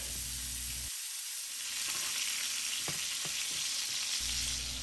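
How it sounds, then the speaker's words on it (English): Lamb steaks sear in a hot pan with butter, giving a close, steady sizzle and crackle with a few sharp pops and no talk. "get those steaks in there. Sear them up. Sear them from both sides."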